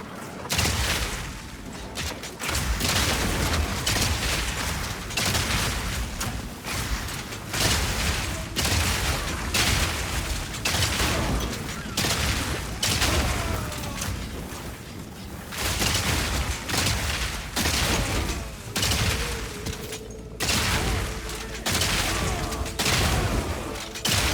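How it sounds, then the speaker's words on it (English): Rapid bursts of gunfire and booming explosions from explosive shots blowing up enemies in the action game Path of Exile 2, loud and nearly continuous with dense repeated blasts over a game soundtrack. "Just shooting things and blowing them up."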